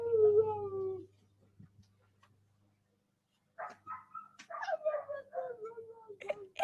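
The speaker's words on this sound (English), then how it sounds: "He heard dogs barking." A dog gives a brief howl, then after a quiet pause several sharp barks and yelps break out close by, with a hint of voices in the background.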